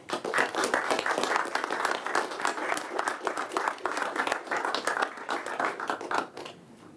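Sustained round of applause from an audience at a town council meeting, dense clapping from many hands across the room, fading out near the end.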